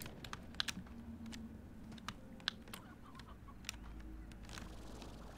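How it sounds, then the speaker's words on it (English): Chickens cluck in the video game Slime Rancher, faint short clucks scattered among sharp keyboard taps and clicks, all quiet and close with no talking. "So many chickens."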